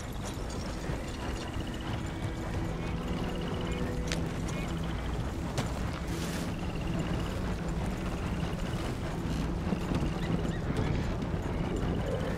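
A horse trots steadily in Red Dead Redemption 2, rhythmic clip-clop hooves with faint tack and ambient game sounds, moderately close.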